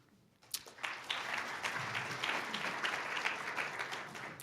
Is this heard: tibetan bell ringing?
no